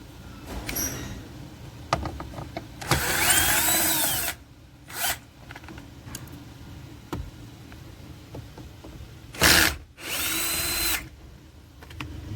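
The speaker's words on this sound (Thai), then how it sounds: "ขั้นตอนต่อไปก็ถอดสกูหัวน็อตสกูเบอร์แปดนะครับ สองตัวเอาก่อนนะครับ" A cordless power drill whirs in several short bursts, backing out size 8 screws from a Honda Jazz air conditioner, with quiet clicks and handling noises between runs.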